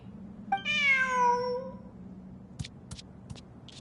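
A cat meows once in the Genshin Impact video game, a clear drawn-out close call followed by a few faint clicks and no speech.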